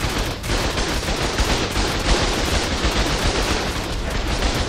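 A dense, sustained barrage of gunfire in ARK survival combat roars without pause, loud and close, the shots blurring into a continuous rattle with no voices on top.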